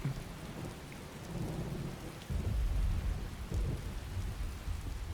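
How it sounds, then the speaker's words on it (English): Steady rain pours in a Skyrim game world while low thunder rumbles underneath, swelling louder after a couple of seconds and rolling on continuously with no voices. "Yep, I think the rain might be letting up finally."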